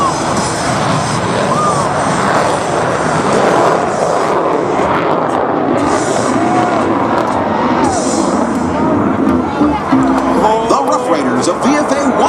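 A U.S. Navy F-35C Lightning II jet flies a demo at the Atlanta airshow, its broad engine roar loud and steady throughout while an announcer talks over the top.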